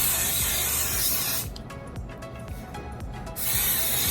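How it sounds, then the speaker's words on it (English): Hair holding spray hisses from an aerosol can in one steady burst of about two seconds, close and fairly loud, used while styling the curled hair of a lace front wig. "which is some holding spray"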